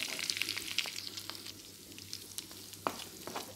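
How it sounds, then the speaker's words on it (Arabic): Chicken and onion rings sizzling and frying in a pan, a steady soft crackle with scattered pops and a low hum underneath, quiet and close. "نخليه يتحمر غير شويه مع الدجاج"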